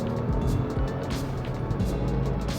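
Cabin sound of a Porsche 911 996 C4S under hard acceleration: a muffled, steady engine drone with rising pitch and strong wind and road rush, fairly loud and continuous throughout.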